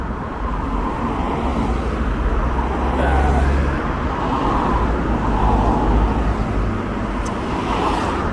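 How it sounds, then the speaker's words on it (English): Steady road traffic rumbles past on a Waterford street, several cars passing close by in a continuous loud wash of engine and tire noise. "Just have to wait for these cars."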